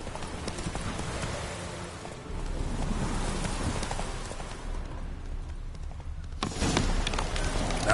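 Roach, the horse in The Witcher, gallops in a steady, continuous rhythm of hoofbeats under wind and game ambience, with the sound swelling louder near the end.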